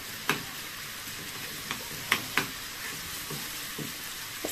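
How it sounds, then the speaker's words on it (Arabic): Garlic and onion frying in hot oil for an Egyptian okra dish, a soft steady sizzle broken by a few sharp crackles and pops, with no voices. "هي البصله التومه هتحمر ونطشها في الباميه كده"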